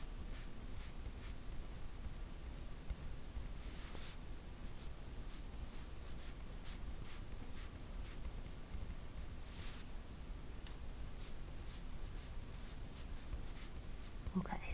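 Pen marking dotted lines on a sine and cosine graph, heard as a run of soft, short, rhythmic taps and scratches, close and quiet, with a low steady background hum.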